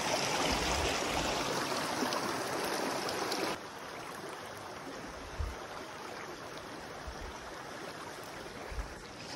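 A river flows over slippery rocks during a fishing hike, a steady rushing wash that drops slightly in level partway through and continues evenly, close and unbroken, with no talking.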